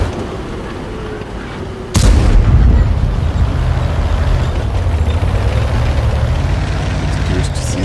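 A tier 8 tank's high-velocity gun fires in a video game: a single sharp, loud blast hits suddenly after quiet engine rumble, then a heavy low engine drone and rattle continue beneath it.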